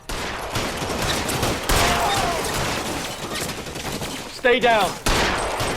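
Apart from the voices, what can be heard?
gunfire in the video game LA Noire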